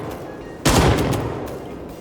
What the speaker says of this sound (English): That guy over there has definitely heard a gunshot.